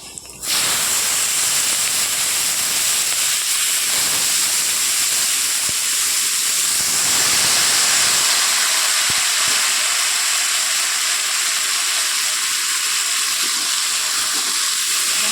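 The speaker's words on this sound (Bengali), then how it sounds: "তারপর যে কেটে রাখা বরবটি আর আলুটা দিয়ে দেব" Cut yardlong beans and potatoes hit hot oil seasoned with kalonji, setting off a sudden loud hiss that holds as a dense, steady sizzle, close and continuous to the end.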